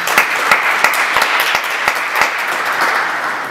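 An audience claps after a music performance at a talk, with sharp individual claps standing out near the front over a steady bed of clapping from the crowd, briefly and evenly sustained.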